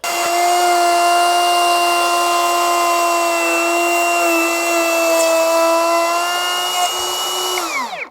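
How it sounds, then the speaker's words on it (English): A router cutting bolt holes in wood for a post frame workshop wall gives a loud, steady high whine for about eight seconds, then spins down at the end. "So now what I'll do is I'll router out those holes."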